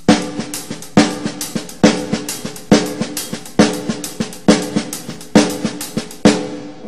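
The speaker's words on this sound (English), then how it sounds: "So you can hear the 4 of every count is played with the left hand on the snare." Drum groove in 6/8 time, a steady hi-hat pulse with soft ghosted snare notes and a left-hand snare hit on the fourth count, repeating in even phrases with no voices.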